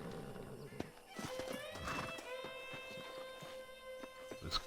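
A horse in the video game Red Dead Redemption neighs with a rising, drawn-out whinny amid steady clip-clop hoofbeats, moderately close against a faint game ambience.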